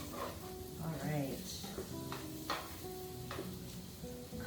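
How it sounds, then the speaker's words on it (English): Onions sizzle and hiss steadily in a hot pan while being stirred for Salisbury steak with onion and mushroom gravy, with a person talking over the cooking. "Cook those onions a bit."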